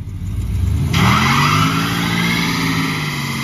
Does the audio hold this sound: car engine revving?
yes